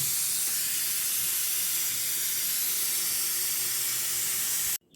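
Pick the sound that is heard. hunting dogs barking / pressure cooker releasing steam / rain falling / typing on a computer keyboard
pressure cooker releasing steam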